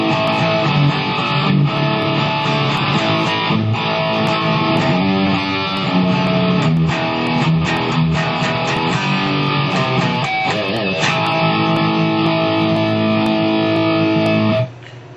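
Electric guitar plays through a multi-effects pedal into a live amp with cab simulation switched on, producing a loud, dense, distorted tone that sustains chords and riffs without pause before cutting off at the end.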